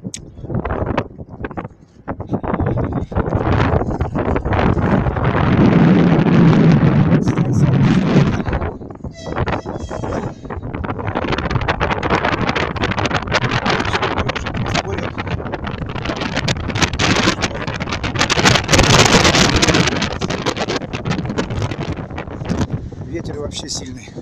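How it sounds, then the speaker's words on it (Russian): Strong wind buffets the microphone with a loud, continuous roar near a viaduct at Artyshta railway station, rising and falling in gusts while a person speaks intermittently over it. "Ветер вообще сильный."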